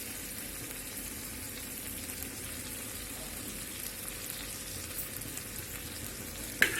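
Chicken sticks frying on a tawa over a low gas flame, a steady dense sizzle running throughout with faint stirring and scraping, and one sharp clink of a spoon near the end.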